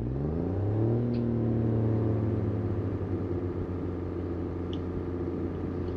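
A Class 142 diesel train in Train Sim 2020 powers up to notch 5, its engine droning low and rising in pitch, then settling into a steady rumbling hum, loud and close, with no talking.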